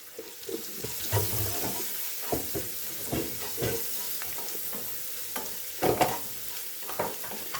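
Sliced onions sautéing in a pan with salt and a little turmeric, a soft sizzle punctuated by repeated scraping stirs of a spoon against the pan, close and alone.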